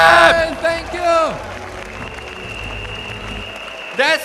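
A keynote audience claps in a broad, steady wash of noise, framed by a speaker's loud, excited voice at the start and end.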